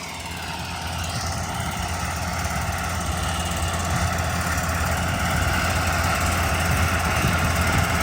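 Harvesting machines cutting parsley and basil in a field, a continuous loud engine drone with a rough mechanical rattle that holds steady and builds slightly throughout.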